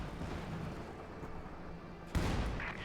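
Artillery shells from high-precision rounds pounding a trench in Company of Heroes 2, a low rumbling battlefield bed broken by one sudden sharp impact near the end, faint overall.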